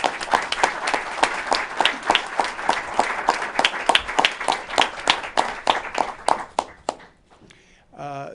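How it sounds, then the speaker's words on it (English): A small group claps in an irregular, separate patter during a state press briefing, with distinct individual claps that thin out and stop near the end before a brief voice comes in. "Let's give everyone a round of applause."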